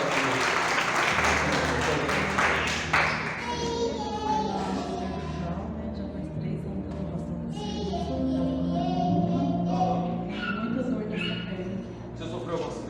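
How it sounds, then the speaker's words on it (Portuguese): Audience clapping in a church conference hall, steady applause sustained throughout with voices and music mixed underneath. "Vamos aplaudir."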